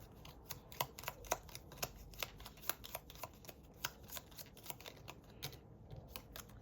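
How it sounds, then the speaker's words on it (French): A small stack of six playing cards being shuffled, quick dry riffling taps in an irregular stream, close and quiet with no talking. "Mélange toutes les cartes et tire-en une."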